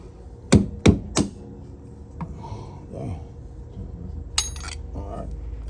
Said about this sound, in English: I'm gonna take a screwdriver with a hammer and try not to bust the housing.